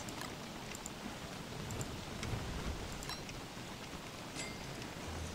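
Steady rain in the survival game Don't Starve: Reign of Giants, a dense, even hiss of falling drops with faint scattered ticks, continuous and moderately loud with no voices.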